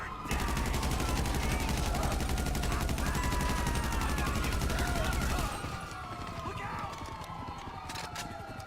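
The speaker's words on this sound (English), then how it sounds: "if you have a suppressor on your Uzi and you shoot from your bike" Rapid Uzi gunfire fired from a motorbike in GTA Online, a dense loud burst for about five seconds over engine and traffic noise, then cutting off to quieter game ambience.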